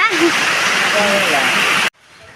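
Steady broadband hiss of rain pouring down, loud and continuous, with faint voices underneath, cutting off abruptly near the end.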